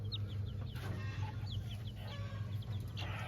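Small Bengal chicks peep and cluck close by, giving a quick run of high, rising chirps over a constant low background hum.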